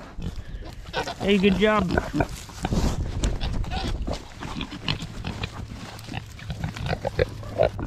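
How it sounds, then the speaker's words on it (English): Idaho pasture pigs rooting and tilling on farmland snort and grunt close by in short bursts. Someone speaks encouragingly to them in between. "originally I bought these Idaho pasture pigs"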